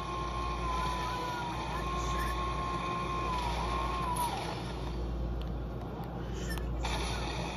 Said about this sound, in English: They can't hear our car. It's really loud.